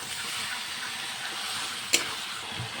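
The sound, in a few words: meat sizzling as it is added to the pan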